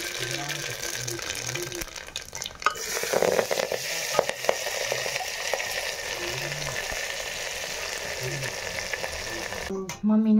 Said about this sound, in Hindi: चलिए भाई अभी हमारा तड़का भी अच्छे से हो गया है